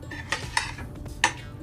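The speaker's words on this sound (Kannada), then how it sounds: "ಈಗ ಪ್ಲೇಟ್ ಸರ್ವ್ ಮಾಡಿಕೊಂಡು ಬ್ರೇಕ್ಫಾಸ್ಟ್ ಮಾಡೋ ಸಮಯ" Avalakki being served onto a plate, with a few light metallic clinks and scrapes of a spoon against dishes, close and soft over a low background hum.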